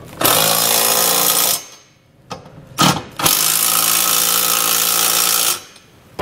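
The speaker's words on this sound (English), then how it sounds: "We can now go back and tighten down our hardware. We're gonna use an 11/16 socket for our larger bolts." Power impact tool tightening trailer hitch bolts with an 11/16 socket on a 2013 Ford Escape Class III hitch install: two loud sustained bursts of rattling hammering, separated by a short pause with a brief blip, close and alone.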